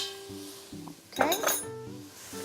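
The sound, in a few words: mixing tomatoes and peppers in a pan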